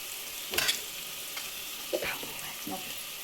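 Onion fries in a pan with a soft, steady sizzle, broken by a few brief scraping stirs of a spatula, close and moderately quiet with no voices.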